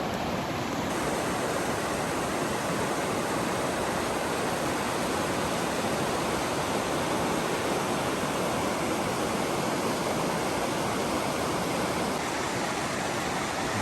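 A river in Grandjean, Idaho flows where it meets another river, a steady, dense rushing roar of moving water that stays loud and unbroken throughout, with no voices.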